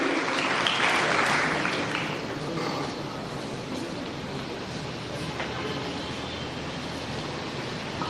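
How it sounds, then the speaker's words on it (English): An audience applauds silver medal winners at a school's annual sports day celebration, a continuous wash of clapping that swells early and then settles into a steady even roar. "I request the audience to please give them a big round of applause"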